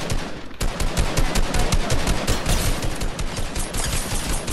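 Automatic gunfire in the Fortnite video game rattles in loud, rapid, sustained bursts that continue almost without pause, with no talking over it.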